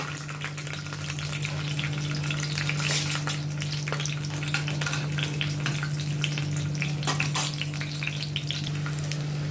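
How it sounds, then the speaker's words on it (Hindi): Okra (ladies' finger) fries in a pan on a gas stove, giving a continuous, even sizzle with scattered crackles over a low steady hum, with no voices. "इसमें मैं दूसरी गैस पे ये मैं लेडीज फिंगर फ्राई कर लेती हूँ"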